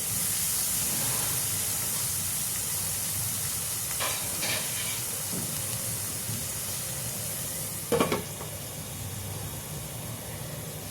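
Spinach and paneer curry sizzling steadily in a pan, a constant close hiss of frying with a few brief scrapes of stirring partway through and no talk.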